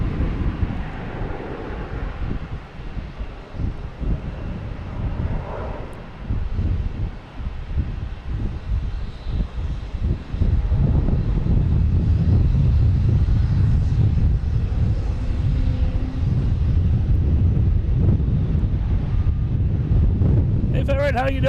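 Delta Airbus A321 jet taking off from Boston Logan Airport, a loud, steady low roar that swells and holds near the end, heard outdoors with wind buffeting the microphone and a voice talking over it.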